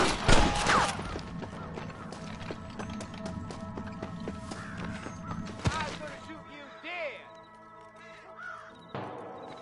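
Sniper gunfire in the Western video game Red Dead Redemption, during a shootout to clear Pike's Basin: sharp cracks and busy battle noise in the first half, with voices and crow-like cries, thinning out later.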